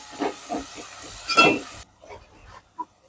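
Tomatoes hit a hot pan with garlic chili paste for a chicken tikka biryani, giving a loud, close hiss and sizzle with a few stirring bursts that cut off abruptly, followed by faint scattered clatter.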